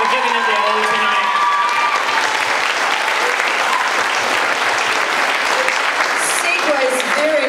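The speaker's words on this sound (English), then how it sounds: "let's just give them all a massive round of applause for giving it their all tonight" Loud, sustained applause fills the hall at a dance competition finals awards night in Christchurch, a large audience clapping continuously with some cheering mixed in.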